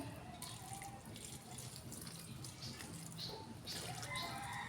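Hot water pours steadily from a tap onto yellowed clothes with soap in a basin, a continuous close splashing rush with faint drips and no talking over it.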